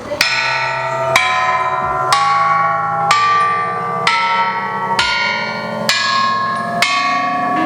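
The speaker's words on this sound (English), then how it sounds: "Yeah, the Chinese bells." Chinese bells in a temple ring one after another up a scale, about eight bright struck tones spaced evenly, each ringing on until the next strike, loud and close with no talk.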